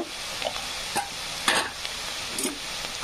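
Onion frying in a pan with ginger, coriander and garlic paste, a steady close sizzle with intermittent scraping stirs and soft clinks of the spoon.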